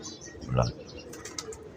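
A single soft, low coo from a wild pigeon kept on a rooftop loft in Lahore, brief and close, followed by faint chirps and quiet background voices.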